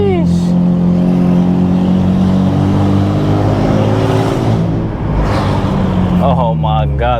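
An Infiniti Q60 tuned to about 740 wheel horsepower on Z1 turbos with a stock motor accelerates hard, its engine note climbing loud and steady with rising turbo whine, followed by a shift and another pull.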